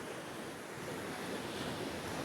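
Sea waves wash steadily onto a beach lined with wooden loungers and umbrellas, a constant broad rush with some wind noise and no voices.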